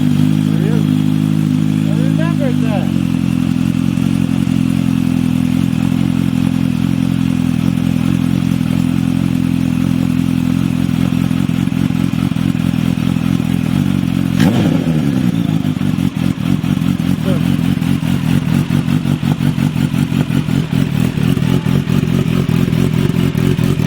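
A Kawasaki Ninja H2 motorcycle engine runs loud and close throughout, a rough steady idle with a throaty drone that shifts pitch as it settles, and one brief rev around the middle; voices are mixed in.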